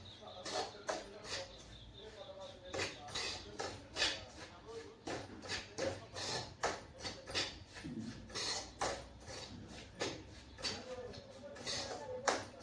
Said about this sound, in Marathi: आपल्याला खरपूस असा हे रवा भाजून घ्यायचा आहे